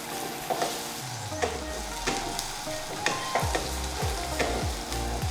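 Ivy gourd fry sizzles in a pan as it is stirred up and down with masala and coconut powder, giving steady frying crackle punctuated by repeated scraping and clinking strokes of the spoon.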